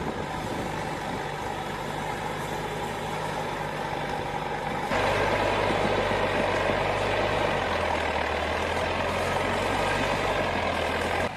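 A DT75 crawler tractor grinds through a wet, muddy field, its diesel engine a steady heavy drone that grows louder and deeper midway, with a low throbbing undertone throughout.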